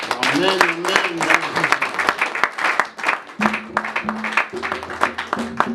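Church congregation clapping in worship, rhythmic crowd applause mixed with loud singing and shouting voices throughout, with reverberant hall ambience.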